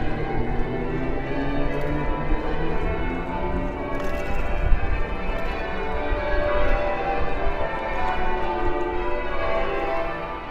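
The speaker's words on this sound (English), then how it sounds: "we successfully made it back up the hill to the cathedral where the bells are ringing" Cathedral church bells ring continuously on a hilltop, a dense wash of overlapping tolls filling the air for several seconds amid outdoor ambience.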